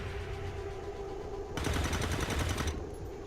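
Rapid automatic gunfire in XCOM 2, a dense rattling burst of about a second over a steady ambient hum, with no talk.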